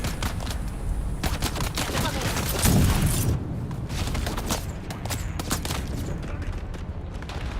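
Rapid bursts of gunfire from the video game Dune Awakening fill the scene, with a dense rattle of automatic shots and a heavier boom near the middle, all close and loud with no speech over them.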